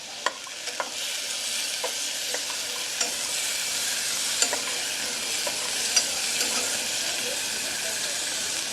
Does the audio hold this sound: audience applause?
no